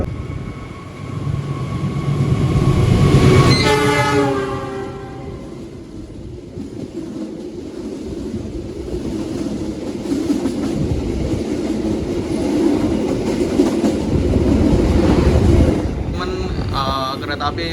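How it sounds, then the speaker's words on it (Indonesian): KA Commuterline Supas commuter train pulling into Surabaya Gubeng station: a steady loud rumble of rolling wagons with rhythmic clickety-clack over the rails, a brief rising squeal near the start, and wind buffeting throughout. "Kereta api komuter lain Supas akan segera tiba di stasiun Surabaya Gubeng"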